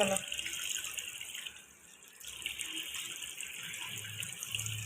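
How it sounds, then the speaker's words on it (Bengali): Tap water runs steadily into a sink while a three-year-old washes up during a morning routine, a continuous close hiss with a short dip midway and faint voices beneath. "কলটা বন্ধ করো"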